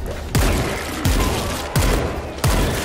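Heavy gunshots ring out against a zombie horde in World War Z, four loud booming shots at an even, slow rhythm, each with a dense reverberant tail.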